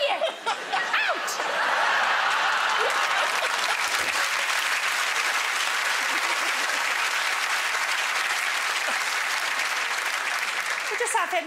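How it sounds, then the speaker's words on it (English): A television studio audience bursts into sustained, loud applause that swells and holds steady for several seconds, with scattered chuckles and laughter mixed in, on a comedy chat show. "This is clapping. Somebody clapped!"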